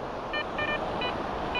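A metal detector on a salty seawater beach, set to maximum sensitivity, gives short high electronic beeps over a bottle cap, sounding in about four brief bursts over steady surf and wind noise.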